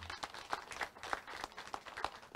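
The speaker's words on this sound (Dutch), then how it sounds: "Ja, je mag een applaus geven, ja." An audience applauds construction workers at the handover of a parliament assembly building, a steady crowd clapping with rhythmic swells, fairly distant and sustained throughout.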